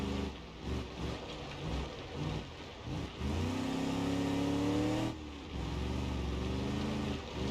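Burnside Special V8 on a dirt track in BeamNG.Drive, its engine revving up in rising pulls, with a long sustained high-rev stretch and a short dip before climbing again, loud and close with no talking.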